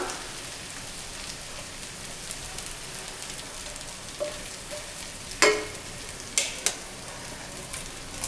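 Eggs frying in a pan with tomatoes pushed to one side for street-style Tamil egg rice, a steady close crackling sizzle with a few sharper pops and crackles, no voices.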